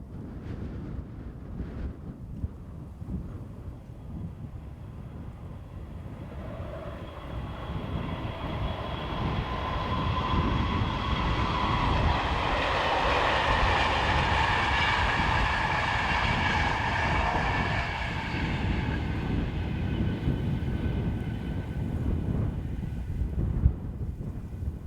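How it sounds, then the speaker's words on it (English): Class 91 locomotive 91110 heads north powering a King's Cross to Leeds service, a long rumbling pass that swells to a steady roar with electric whine, then fades, under wind buffeting the microphone. "91110 heads north, powering the 1303 King's Cross to Leeds service"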